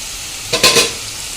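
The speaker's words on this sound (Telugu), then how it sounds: "వెల్లుల్లిపాయలు అయితే మంచిగా వేగిపోయాయి" Steady sizzling of garlic cloves frying in hot oil for mango pickle, with a couple of brief scraping stirs in the middle; no voices.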